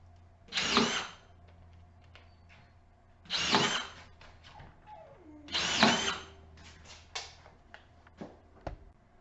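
A Ryobi cordless drywall screwgun drives screws in three short, even whirring bursts separated by pauses, followed by a few faint clicks, fairly quiet and close.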